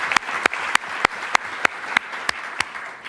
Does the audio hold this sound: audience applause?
yes